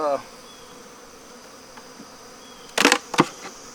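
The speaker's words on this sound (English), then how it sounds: "And I've got to get all these bees in their house." Honey bees hum steadily at a low level while being moved into a new hive, then a few louder, sharper bursts of activity near the end, close by.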